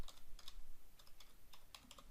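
Fingers type on a computer keyboard, a quick irregular run of light clicking keystrokes, close and fairly quiet, with no voices.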